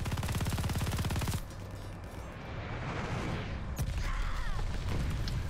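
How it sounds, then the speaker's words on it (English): Rapid automatic gunfire in Call of Duty Vanguard multiplayer, a dense burst of machine-gun shots up front, then scattered shots and explosive rumble continuing loudly throughout. "Okay, somebody is shooting."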